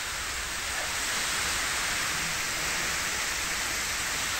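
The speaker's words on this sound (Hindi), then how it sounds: "जोधपुर की ये तस्वीरें हैं, तेज हवाओं के साथ जमकर बारिश।" Heavy rain driven by strong winds pours down in Jodhpur, a dense, steady, unbroken hiss of falling water with no voices.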